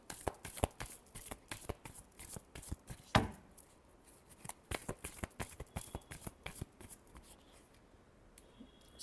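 Tarot cards being shuffled by hand up close, a quiet, rapid series of papery riffles and taps with brief pauses between bursts.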